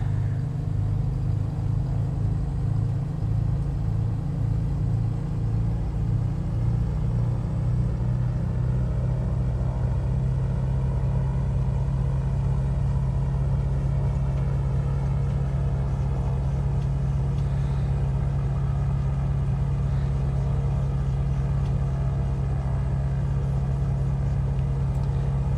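A Mooney light aircraft taxiing in Microsoft Flight Simulator 2024, a steady low piston-engine drone with a constant deep hum and faint higher whine, unbroken and even throughout with no voices.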